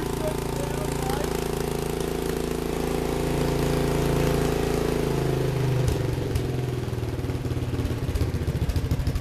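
A Briggs and Stratton six-stroke engine runs steadily at moderate volume, a continuous mid-pitched drone that turns into a choppier, pulsing beat partway through.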